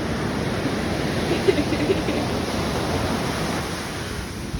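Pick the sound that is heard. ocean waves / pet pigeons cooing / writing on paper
ocean waves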